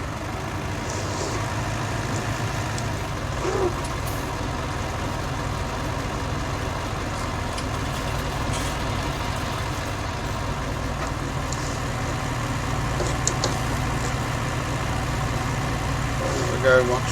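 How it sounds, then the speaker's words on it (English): A tractor hauling a sugar beet harvester lifting beet in October 1965, its engine droning in a steady, continuous low rumble that stays close and constant throughout. "Go once more with the sugar beet harvester"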